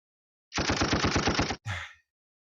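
A rapid burst of gunfire rattles for about a second, followed by a short, sharp final shot.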